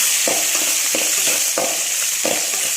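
Curry leaves and green chilies sauté in hot oil for rava upma, a steady loud sizzle with stirring strokes roughly every half second, close and alone without talk.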